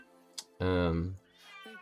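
A house cat gives a loud, drawn-out meow right up close, preceded by a short faint chirp, while a voice talks quietly around it.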